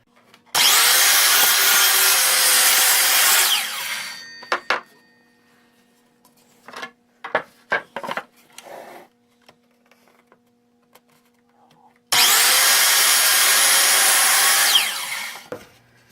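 A wide wooden board for the top step of a step stool is sawn in two loud, rasping bursts, separated by a quieter stretch of scattered knocks and handling sounds.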